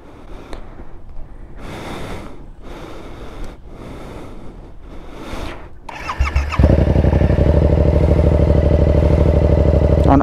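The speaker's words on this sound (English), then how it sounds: "On idle, you can't really tell how good it sounds, but just wait until we get into these higher RPMs. Just a few light blips." A Yamaha R7 motorcycle with an aftermarket exhaust: a few muffled thumps come first, then the engine fires up close and settles into a loud, steady, throbbing idle.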